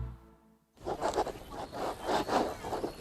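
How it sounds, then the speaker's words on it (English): An antique fountain pen scratches across linen paper in rhythmic close strokes after a brief quiet start, dry rubbing bursts that rise and fall with each line written. "The sound of your antique fountain pen gliding across linen paper as you journal in the park."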